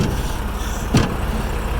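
Cars drive past on a snowy Colorado road, a steady low engine and tire rumble with one brief, louder swish of a vehicle passing close by near the middle.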